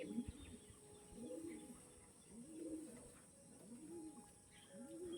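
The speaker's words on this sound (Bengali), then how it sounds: "মালবাহী পায়রা, ডানা দেখুন একদম বড় বড় ডানা" Carrier pigeons of an old-generation breed cooing, a soft, low, rhythmic series of repeated coos about once a second, fairly close, with faint chirps in the background.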